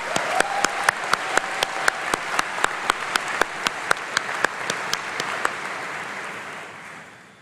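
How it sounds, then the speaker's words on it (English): Audience applause at a university summer graduation congregation, a full hall clapping steadily with a regular, rhythmic beat of prominent claps, fading out over the final seconds. "So let's give them a big round of applause to celebrate this incredible achievement"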